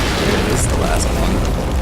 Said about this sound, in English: Stop throwing rockets.